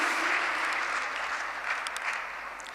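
Strong, sustained applause from a seated audience thanking a singer at a Brahma Kumaris student congregation, a dense steady clatter of many hands that tapers slightly toward the end, with no voices over it.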